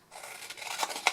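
Scissors cutting card for a floral gift box, a short close snip with a crisp bright crunch of blades closing through the card, with no voices present.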